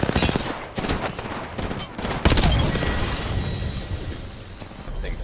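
Dense, rapid automatic gunfire and bursts of shots ring out almost continuously in a solo-queue ranked battle royale shooter match, loud and close.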